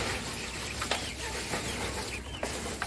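A quail in its enclosure, bedded with fresh leaves and grass, gives soft, scattered clucking calls. Several short notes come at irregular intervals over a faint, steady background hiss.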